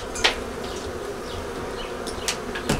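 Honey bees buzz steadily and close at a hive, a dense insect hum with a few louder passes flying near.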